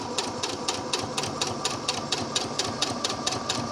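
A sewing machine stitches the waist of a scalloped skirt with a rapid, even mechanical clatter of needle strokes. It runs close and steady with no talk.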